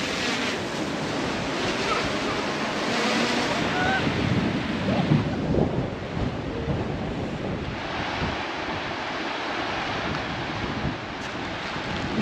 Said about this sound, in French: Là, c'est la cascade.